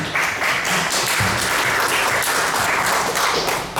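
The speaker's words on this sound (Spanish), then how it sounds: "Fuertes aplausos para Alejandro Susti" A room full of people at a book presentation claps steadily and loudly, dense applause sustained without a break.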